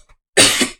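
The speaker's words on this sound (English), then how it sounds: "Just gonna clear my throat a bit." A single loud, close throat clear from someone with a tickle in their throat, one rough burst lasting under half a second and surrounded by near silence.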